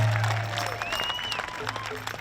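A crowd at a world hoop dance championship claps and cheers for a dancer being brought out, fairly distant sustained applause with a low drone and a whistle-like tone over it.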